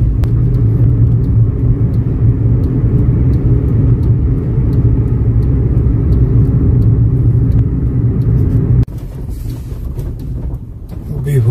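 A car driving along a rough road of rocks and potholes between Pahalgam and Jammu in Kashmir, heard as a steady, loud low rumble with wind buffeting that eases and changes near the end.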